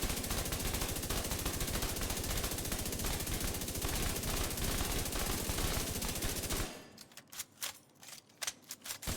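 A rifle LMG in The Division 2 fires a long, dense, continuous burst, then is reloaded with a quick series of sharp mechanical clicks and clacks in the last few seconds.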